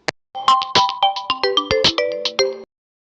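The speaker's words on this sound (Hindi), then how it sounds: "तभी ते का फोन रिंग करता है" A bright electronic phone ringtone plays a short rising-and-falling melody of quick tones, loud and close, then stops abruptly.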